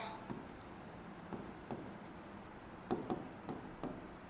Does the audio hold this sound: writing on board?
yes